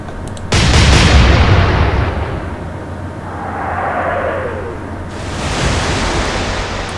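Naval artillery fires in the Atlantic Fleet video game: a loud, sudden boom opens the clip, then a long rolling rumble fades slowly. A second swell of roar rises again near the end.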